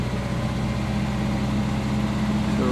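A warmed-up car engine runs steadily at a raised idle, a continuous low hum with a slight rise in pitch near the end, no voices.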